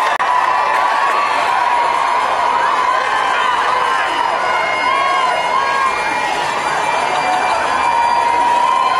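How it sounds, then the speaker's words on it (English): A crowd of several hundred packed behind barriers cheers loudly for the Duke and Duchess of Cambridge and Prince Harry, a dense, continuous roar of voices with shouts rising throughout, close and sustained. "They're eliciting the biggest cheer yet from a crowd of several hundred packed behind their barriers"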